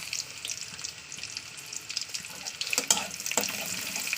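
Onion, whole cumin seeds and four dried red chillies frying in oil in a home kitchen, a steady soft sizzle with a few brighter crackles and spatters, close and fairly quiet, no talking.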